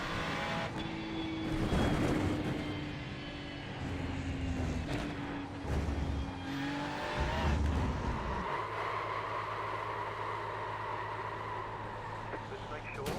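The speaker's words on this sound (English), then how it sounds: "Car approaching, hold. Car approaching, keep left." IMSA race cars in the iRacing sim, engines droning with rising and falling pitch as a car accelerates and shifts, under steady talk over the engine noise.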